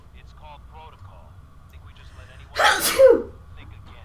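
A loud, sharp sneeze from a character in the video game Fallout 4 bursts out near the end, following quieter in-game dialogue over a low background hum.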